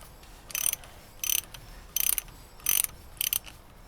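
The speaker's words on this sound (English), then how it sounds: "it's another exciting video watching me undo bolts" Ratchet wrench undoing bolts on a Land Rover 110 hub assembly during a hub strip-down: five short, loud bursts of rapid clicking, evenly spaced with quiet gaps between, no talking.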